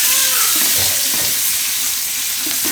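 Potatoes for Gujarati dum aloo fry in a pan over a low flame, giving a steady, close sizzle with soft stirring scrapes running throughout.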